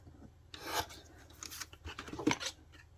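Scissors make short rasping snips through paper while a spring craft folio is trimmed. Several quick, close cuts come in a brief burst, faint overall, with no talk.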